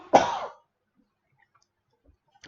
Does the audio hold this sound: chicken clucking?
no